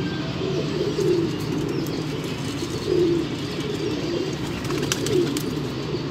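Pigeons coo in soft, repeated low phrases, roughly three swells over the stretch, with faint chirps above a steady outdoor background from a pigeon flying gathering.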